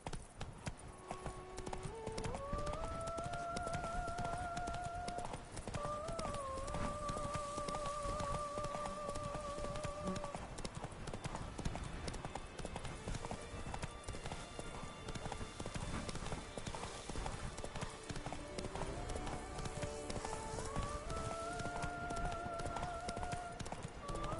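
Roach the horse gallops in The Witcher III, hooves clip-clopping in a steady continuous rhythm close by, with a soft rain-like wash and musical tones in the background.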